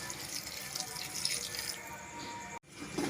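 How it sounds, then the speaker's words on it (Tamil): Water poured into a pan of vegetable masala, a steady splashing stream that cuts off abruptly near the end, with no voices. "காய் வேகிற அளவுக்கு நம்ம தண்ணி ஊற்றிக்கலாம்."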